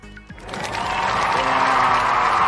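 Applause rises after a brief moment of quiet, building into steady, fairly loud clapping from a small group that continues to the end.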